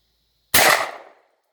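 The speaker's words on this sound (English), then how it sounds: "Now, we're going to destroy that cardboard box." A single loud shotgun blast fired into a cardboard box, a sharp close report with a short decaying tail, alone with no talking.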